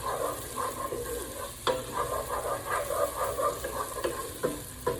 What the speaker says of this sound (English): to that oil we're going to add our medium yellow onion. Get that mixed in real nice.